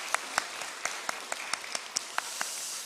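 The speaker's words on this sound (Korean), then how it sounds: "이 모든 사역을 허락하신 하나님께 감사의 박수를 올려드리도록 하겠습니다." At a Sunday church service, a congregation gives applause of thanks, heard as sparse, distinct individual claps popping out at irregular intervals over a soft hissing background, fairly faint and not building into a full ovation.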